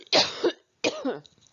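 A person breaks into a coughing fit: two harsh, close coughs in quick succession, then a softer, rougher throat-clearing catch after a short pause.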